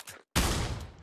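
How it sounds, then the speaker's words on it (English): Automatic gun fire in the Pavlov VR zombies game: a brief burst, a short gap, then a sustained loud, dense stream of rapid shots up close. "The automatic's one of my favorite guns to use."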